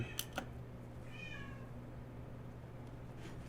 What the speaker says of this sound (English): Okay, again with the cat.